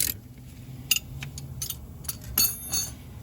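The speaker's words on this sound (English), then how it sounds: "and 19mm wrench. And tighten the caliper back down onto the caliper carrier." Sparse metallic clinks and light taps from a 19mm wrench tightening a Honda Fit brake caliper back onto its caliper carrier, close by and scattered irregularly over a quiet background.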